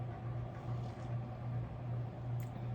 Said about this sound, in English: That's my little air conditioner in the back, struggling.